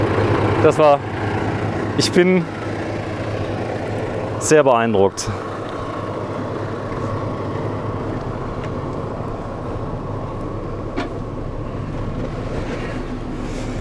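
The 12-cylinder engine of the world's longest motorhome, an 18-metre bus, idles with a steady low rumble throughout. People talk over it at intervals, with a few short squeaky sounds early on.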